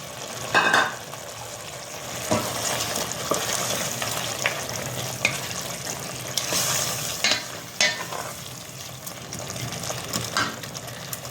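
A quarter kilo of minced meat keema sizzles and fries in a pan, a steady hiss with occasional stirring scrapes and clinks, close and moderately loud with no talking.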